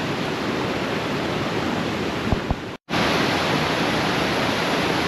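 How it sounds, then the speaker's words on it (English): Firm Brook Falls reached by ATV, a broad steady roar of falling water that fills the whole scene, briefly cut by a short dropout before resuming just as loud. "We made it to Firm Brook Falls."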